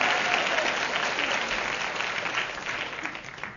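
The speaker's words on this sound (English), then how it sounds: "Poses for audience applause" Studio audience applause for a radio comedy show, a dense burst of clapping that starts loud and slowly fades over a few seconds.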